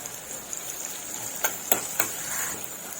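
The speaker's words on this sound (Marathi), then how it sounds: "हे बघा आलं आणि लसूणचं कच्चेपणा निघेपर्यंत आपण दोन मिनटं असं चांगलं त्याच तेलामध्ये परतून घ्यायचं आहे" Ginger garlic paste sautéing in oil with onion for a dry green bean stir-fry gives a steady soft sizzling hiss, with a few light clicks of a spoon against the pan and no voices.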